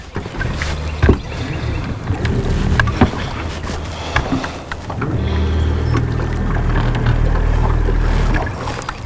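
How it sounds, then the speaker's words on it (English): A boat motors along on a lake with a steady low engine hum, wind and water noise around it, and a few knocks against the hull. "I'm going to position the boat a little more towards the middle of the lake."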